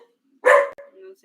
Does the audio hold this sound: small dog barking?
yes